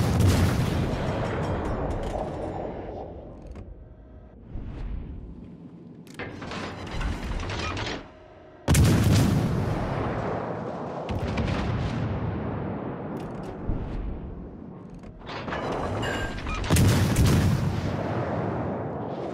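Tank artillery fire in a video game: several heavy booming shots ring out with long rumbling decays, separated by pauses and mechanical clanks, loud and close.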